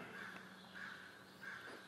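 A crow caws three times at an even pace, faint and distant against a quiet background.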